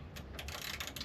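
Small 10mm bolts on a Kawasaki KH125 motorcycle are worked back and forth with a ratchet, giving faint, close, rapid clicking in short repeated bursts over about a second.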